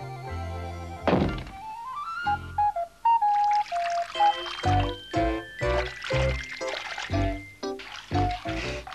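Water pours into a bath in a cartoon scene, a hollow gurgling stream rising in pitch as the tub fills, punctuated by thunks and splashes with upbeat music throughout.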